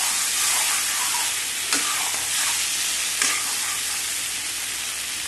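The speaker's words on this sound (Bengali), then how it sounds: "একটুখানি নাড়বো 2 মিনিট।" Egg and potato pieces stirred in spiced oil in a pan, with a continuous bright hiss of frying and a couple of soft scraping strokes from the spoon, close by and with no voices.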